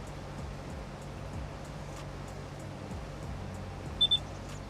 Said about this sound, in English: That beep.